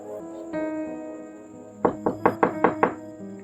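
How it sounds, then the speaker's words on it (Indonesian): Knocking on a door at night in a village house: six sharp, evenly spaced raps arrive close together after a quiet stretch with a faint steady tone and soft background sounds. "Suara pintu diketuk terdengar."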